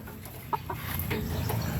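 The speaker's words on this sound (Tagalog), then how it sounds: "Ayan po, manok namin guys" Chickens kept at a home cluck briefly, a few short clucks over low background noise, fairly faint.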